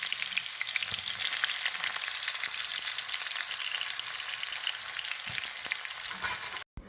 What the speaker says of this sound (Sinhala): තෙල් ටික රත් වුණාට පස්සේ මම ඉස්සරව මෙන්න මේ විදිහට ලුණු ටික දාලා ඒ ටික හොඳට බෙද ගන්නවා.